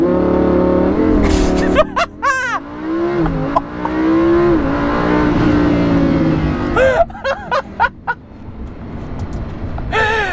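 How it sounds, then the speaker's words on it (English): A Lamborghini Huracan launches and accelerates hard, its engine note climbing steadily, loud and close, while excited voices whoop and shout over it. "Holy shit, this car is so fast."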